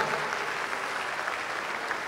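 An audience at a comedy show applauds Yoruba film legend Oga Bello, a dense, even roar of many hands clapping that fills the whole moment without any voices.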